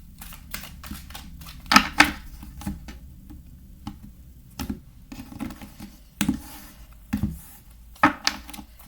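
Tarot cards laid out one by one on a table, giving sharp slaps and soft clicks spaced a second or so apart against near silence.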